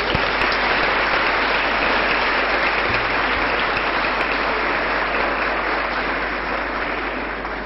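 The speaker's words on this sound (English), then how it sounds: "the instinct is for everyone to give themselves an applause" An audience at a reception for Peace March participants applauds itself in a dense, steady roar of clapping that holds loud and even for the whole stretch, easing only slightly near the end.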